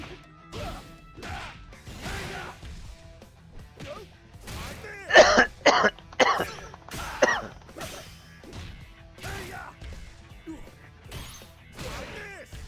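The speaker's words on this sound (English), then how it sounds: "even though I'm coughing like shit now" A person coughing in a short cluster of harsh, loud bursts in the middle of otherwise quiet stretches, with some faint voice sounds around it.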